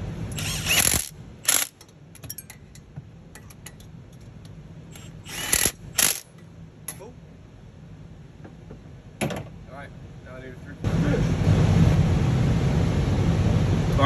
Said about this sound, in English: Now I can bolt it down. A big old extension and a wobble socket.